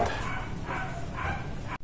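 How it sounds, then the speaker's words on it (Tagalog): A dog barks nearby in a garage while a Yamaha NMAX scooter's spark plug is being changed, giving a few muffled, repeated yelps over low background noise. "So pagpasensya nyo na yung aso maingay."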